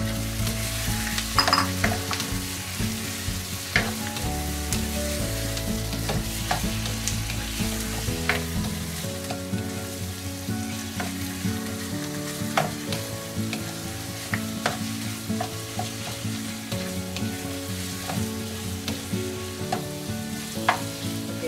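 One pound of extra-large shrimp fries in a pan with a dense, steady sizzle close up, punctuated by frequent sharp utensil clacks and stirring scrapes over about twenty seconds. Nobody speaks.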